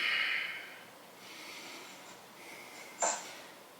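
Slow, steady breathing during a vinyasa flow yoga class, soft airy exhales and inhales close by, with a sharper sniff-like breath near the end.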